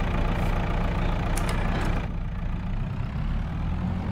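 A JCB engine runs steadily on a farm, a continuous low mechanical drone with a brighter, rougher layer that drops away partway through and leaves the deeper idle-like hum.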